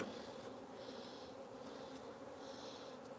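A dense swarm of bees buzzes all around during a capture high in a tree, a loud, close, continuous drone with shifting tones and no talking.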